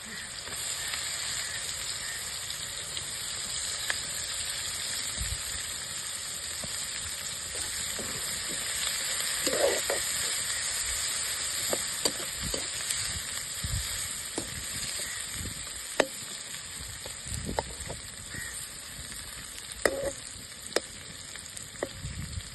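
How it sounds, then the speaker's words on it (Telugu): Onions and green chilies fry in hot oil for a village-style brinjal and dried fish curry, giving a steady, close sizzle throughout with occasional soft stirring clicks and no talking. "ముందుగా మనం కట్ చేసి పక్కన పెట్టుకున్న ఉల్లిపాయలు, కొంచెం పచ్చిమిర్చి"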